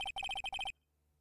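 A cell phone ringtone in the Phoenix Wright: Ace Attorney video game: a bright, rapid electronic trill of about eight beeps, clear and isolated, then abruptly cut to silence.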